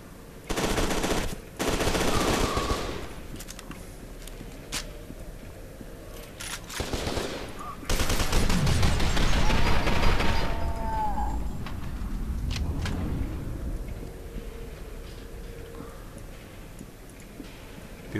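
Automatic weapon fire in F.E.A.R. 2 rattles out in loud rapid bursts, several long volleys of shots with brief gaps between them and echoing tails, close up and with no talk over it.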